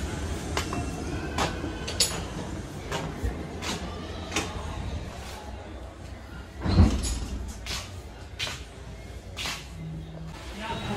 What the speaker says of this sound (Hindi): ये है इस ट्रेन का स्लीपर क्लास